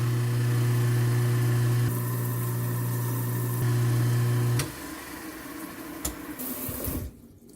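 An InSinkErator garbage disposal runs with a steady motor hum and whir under the sink, then switches off about halfway, leaving faint clatter and running water.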